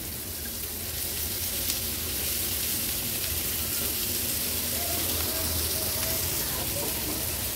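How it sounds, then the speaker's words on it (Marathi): Chopped spiny gourd (kantole) sizzles in hot oil with spices, a steady dense crackle and hiss continuing throughout as the pieces are stirred together. "मसाले तेलावर परतून झाले की आपण ही कंटोळी आहेत ना जी चिरून घेतली ती ऍड करूया। कंटोळी व्यवस्थित मिक्स करून घ्यायची आहे।"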